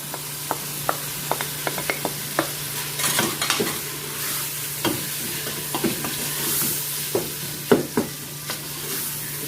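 Green chilies and spices sizzle and fry steadily in a pan while a utensil stirs and scrapes through them, with sharp clinks over a constant close hiss.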